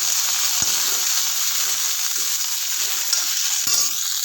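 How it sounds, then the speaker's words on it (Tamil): Onions sautéing in a pan for a pirandai (veldt grape) chutney, with a loud, steady frying hiss throughout and a few brief utensil knocks, close up with no talking. "வெங்காயத்தையும் போட்டு வதக்கிட்டு இருக்கோம்"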